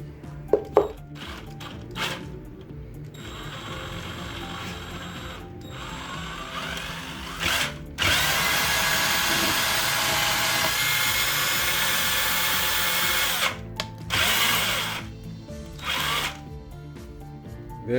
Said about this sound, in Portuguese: vou acoplar a furadeira aqui, fazer girar isso aqui na furadeira, na parafusadeira, para tentar trazer mais graxa para cima